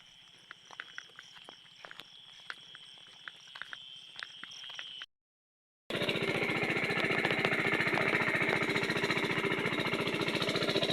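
Before dawn on a farm field, crickets chirp over sharp ticking. After a short silence, a nearby machine engine runs loud and steady, with a dense, continuous rattling roar.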